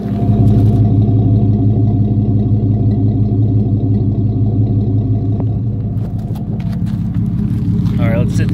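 Pontiac G5 running with a newly installed dual exhaust and chrome cowboy tips, giving a steady, loud low rumble that holds throughout with a slight dip partway, recorded close to the pipes.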